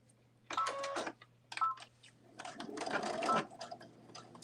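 A sewing machine runs in several short bursts while stitching a quarter-inch seam, with back stitching at the start and end, each run a steady mechanical whir close by, with pauses between.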